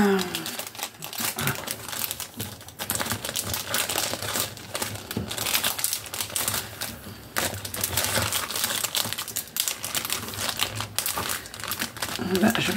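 Scrapbook paper being handled and crinkled in a cluttered home office, busy crackling and rustling bursts throughout, close and fairly quiet, with brief soft talk mixed in.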